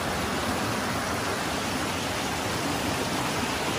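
Creek water rushing along a river walk near Perth, Western Australia, a dense, steady hiss of flowing water filling the whole scene at an even level, with no voices.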